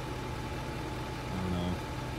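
A farm tractor engine idles steadily at a moderate distance, a low continuous hum with a brief rise in intensity near the end and no talking.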